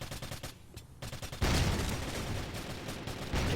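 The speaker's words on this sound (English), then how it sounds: "Those grenades go out, but a bit too early." Grenades and gunfire in a Rainbow Six Siege match, a rapid burst of shots followed by a loud sustained blast and rumbling chaos, dense and close without talk.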